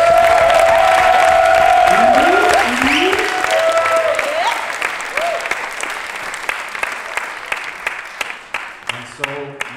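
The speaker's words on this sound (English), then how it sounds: "So please give a round of applause for this panel right here." Loud, sustained applause from a crowd for a panel at a krump dance conference, with some cheering and whistles, gradually thinning out into scattered claps at the end.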